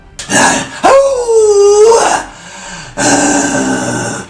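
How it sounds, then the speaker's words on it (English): A pit bull growls deeply and rumbles close up, with a rising yip-like whine in the middle and throaty grunts. "This guy has a really nice, deep, rich bark, and she growls on command."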